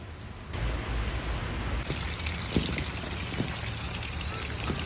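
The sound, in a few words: monsoon rain falling outdoors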